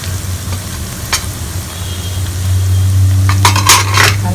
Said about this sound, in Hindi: हल्दी भी अच्छी फ्राई हो जाएगी।